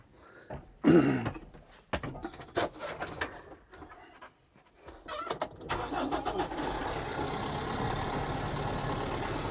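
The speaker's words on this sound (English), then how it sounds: "So with the tractor running" A tractor engine cranks and catches after some knocks and clatter, then settles into a steady running rumble.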